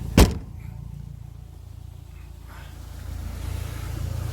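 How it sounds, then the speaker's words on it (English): A Triumph TR4A car door shut once with a sharp, solid slam near the start, followed by quiet low background hum. "Just shut that door."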